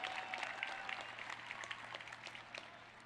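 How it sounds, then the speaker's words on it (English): A commencement ceremony audience applauds for the vocalist, a steady wash of clapping from a large crowd, fairly distant and even throughout, with no distinct cheering. "How about another cheer for our vocalist who has sung through all of the commencement ceremonies, Linda Melendez."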